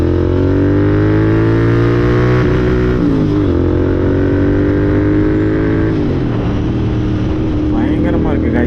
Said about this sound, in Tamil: நம்ம வண்டியோட எக்ஸாஸ்ட் ஃபுல்லாகவே கேளுங்க